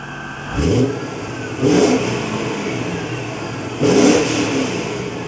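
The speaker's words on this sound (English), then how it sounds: "you can see how the car adapts and runs during the course of methanol injection" A BMW E39 M5 with an Aquamist HFS-6 methanol injection system blips its engine three times from idle, each rev rising sharply and falling back, recorded close with a steady idle between.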